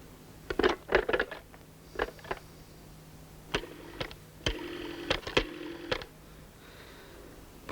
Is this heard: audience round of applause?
no